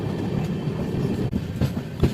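The Lingampally–Vijayawada Intercity Express rolls slowly into a loop line, a close, loud rumble of wheels with soft clickety-clack beats and a few sharper rail knocks near the end.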